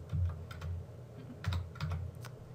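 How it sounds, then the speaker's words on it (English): Clacky keystrokes on a computer keyboard while entering a date in a library cataloging record, a quick irregular run of close, crisp taps with brief pauses and no talking. "Find my copyright symbol, put it in, and type in my date"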